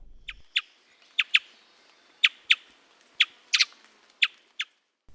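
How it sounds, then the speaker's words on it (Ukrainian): A thrush sings a series of short, sharp high notes, about a dozen chirps spaced irregularly with quiet gaps between them. "Кмітлива пташка, почувши білочку, повернулась і проспівала."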